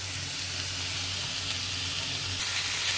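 Ground masala paste sizzles in a pan on medium heat for a spicy egg masala, a steady frying hiss that stays even throughout and swells slightly near the end, with no talking.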